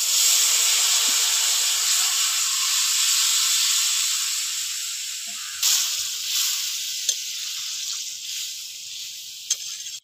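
Curry for a light katla fish and papaya stew is tempered onto fried onions in a hot pan. A loud, steady sizzle and hiss of steam dies down gradually, with a few faint clinks and pops near the end.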